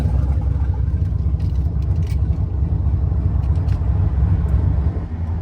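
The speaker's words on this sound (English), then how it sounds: "Man, I love the sound of that with the cutout open." A turbocharged car with a ball-bearing turbo cruises with its exhaust cutout open, a heavy, continuous low rumble from inside the cabin at steady volume.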